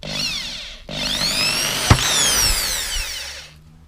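A power drill with a 3.2 mm bit whirs up to speed, briefly stops, then spins again with a rising whine as it bores pilot holes before winding down.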